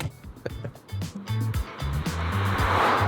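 A 2025 Kia K4 reversing hard and fast, its engine droning loud and rising in pitch with a steady rushing whine that builds toward the end, heard from inside the car.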